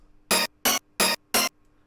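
Second layer of a 90s rave stab synth from the Rave Generator plugin: four short, punchy chord stabs in an even rhythm, separated by brief silences, loud and dry with nothing else audible.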